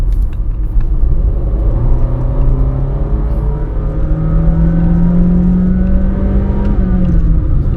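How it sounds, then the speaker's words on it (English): Honda Fit (Jazz) hatchback with a CVT transmission accelerating, a loud steady engine drone with a smoothly rising whine heard from inside the cabin. "this car is just being pulled by the leash by this CVT transmission"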